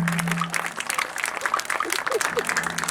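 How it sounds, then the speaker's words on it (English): Applause from a marching band expo crowd at a high school, a steady wash of clapping that runs throughout, with a faint sustained tone at the start and end. "Round of applause for all the hard work."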